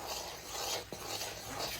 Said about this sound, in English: I'm just going to do it old school and use this fork.